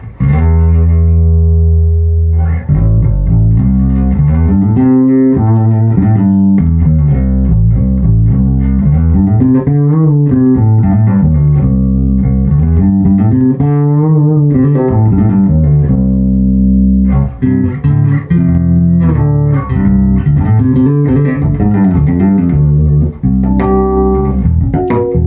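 A bass guitar plays through a Bergantino forté HP 1200-watt head with its variable drive engaged, giving a loud, gritty, distorted tone with sliding melodic runs and sustained notes, alone with no voices.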